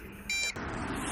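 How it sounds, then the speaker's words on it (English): A drone transmitter gives a short electronic beep as a low-battery warning, a single brief tone over faint background noise. "transmitter's still beeping at me. I think it's because the battery's low"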